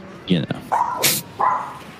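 A dog barks in a few sharp, close yips spread across a couple of seconds, with a burst of hissy noise between them and a quiet room behind.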